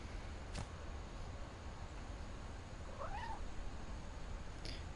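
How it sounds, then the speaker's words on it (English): A cat in a video game lets out one short wavering meow, faint and set back behind a steady wash of ambient game noise, with a couple of brief clicks around it. "Pretty cat."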